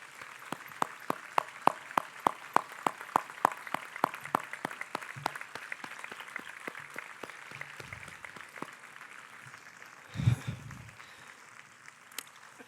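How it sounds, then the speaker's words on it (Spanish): Scattered, fairly faint clapping from an audience honoring a police agent at a ceremony, starting as rhythmic hand claps and thinning out, with a short burst of noise near the end. "le pido al público un fuerte aplauso para nuestro agente"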